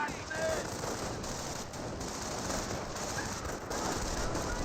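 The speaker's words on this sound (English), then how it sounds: "This rifle squad taking fire from MG42." Steady sustained bursts of MG42 machine gun fire in the Company of Heroes video game, dense and continuous with a busy battle backdrop throughout.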